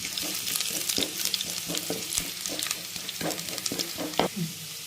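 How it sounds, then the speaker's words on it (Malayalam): Chopped onions fry in coconut oil while a spoon stirs them for a bitter gourd thoran: a steady sizzle broken by repeated scraping strokes against the pan, close and clear with no talk. "ഇനി ഇത് ഉള്ളി കരിയാതിരിക്കാൻ വേണ്ടി ഒന്ന് ഇളക്കി കൊടുക്കുക."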